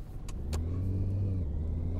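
A car engine pulls hard at full throttle, a loud, steady, slightly rising drone heard from inside the car, with a couple of brief clicks near the start and no talking.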